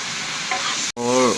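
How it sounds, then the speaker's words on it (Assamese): Green papaya and potato vegetables fry in a pan, the sizzle continuous and close. After a brief cutoff, a spatula stirring through the pieces adds a scraping, whining tone. "মই সবজি ভাজি আছো।"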